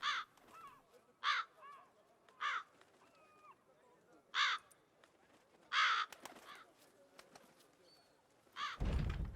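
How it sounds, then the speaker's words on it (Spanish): Crow caws from The Witcher 3: Wild Hunt ring out in a series of loud, separate calls with gaps between, over quiet ambient background, ending with a sudden burst of noise. "Cuervo."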